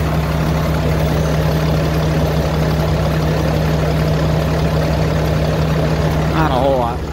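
A 2016 Ram 3500 with a Cummins diesel engine idles steadily after a cold start, a constant low droning rumble, close and even, with a brief chirp near the end.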